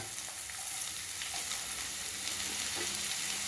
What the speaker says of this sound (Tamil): இப்போ நம்ம இதில் வந்து வெங்காயம் போட போகிறோம்